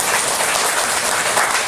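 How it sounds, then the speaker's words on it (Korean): A church congregation applauding during a Sunday service, loud continuous clapping from many people throughout, with no speech over it. "박수 한번 하겠습니다."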